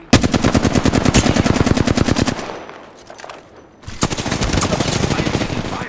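Rapid automatic gunfire in the video game Apex Legends bursts loud and close in two long sustained volleys, separated by a short lull with quieter shots.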